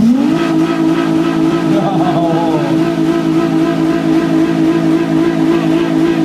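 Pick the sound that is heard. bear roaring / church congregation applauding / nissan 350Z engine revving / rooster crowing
nissan 350Z engine revving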